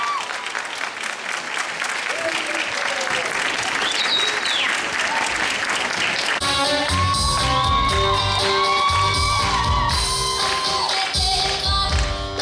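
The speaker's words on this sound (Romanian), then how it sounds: "Haideți să o aplaudăm și să o întâmpinăm!" Audience applause and cheering for a young singer, Lenica of Art Studio Menestrel, at a children's song contest, sustained and loud throughout, shifting into music partway with the clapping continuing on top.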